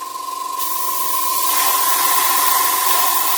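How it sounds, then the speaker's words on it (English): An airbrush sprays Vallejo burnt iron paint as a base coat on a WWII German jerry can, a steady close hiss that rises after a brief quieter start, with a thin constant tone running throughout. "So let's put on the airbrush"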